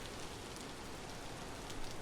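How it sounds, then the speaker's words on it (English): Steady rain pours across the landscape in the Vintage Story survival game, a dense, even hiss of drops on surfaces with no pauses, filling the whole moment at a constant level. "I'm hoping I can balance out the sound in the edit so it's not terrible with all this rain."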